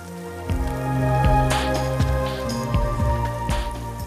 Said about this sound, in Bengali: এটাকে ভালো মতো ভাজা ভাজা করে নিতে হবে।